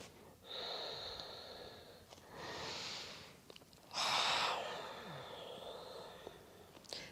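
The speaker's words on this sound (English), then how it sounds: "Deep, strong breaths" Deep, strong breaths during a yoga side stretch, with several long airy inhales and exhales separated by short pauses, close to the listener and soft, the strongest exhale coming midway.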